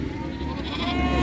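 Lambs bleating at a sheep market in Fuzuli, Azerbaijan, a short close wavering cry over busy crowd noise.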